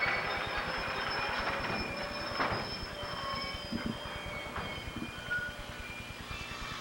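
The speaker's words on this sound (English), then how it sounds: "Oh, this train's going too slow." A train rolls slowly past nearby, wheels clacking in a steady rhythm with a faint metallic squeal and a constant rumbling hum.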